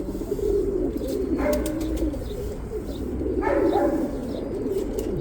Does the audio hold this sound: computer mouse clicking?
no